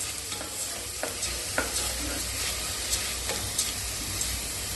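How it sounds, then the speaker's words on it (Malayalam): Washed, dried rice sautéed with mushrooms for risotto, stirred in a pan: a continuous low sizzle broken by regular scraping strokes of the spoon every half second or so, close by with no talking. "ഇത് ഇളക്കി വഴറ്റാം."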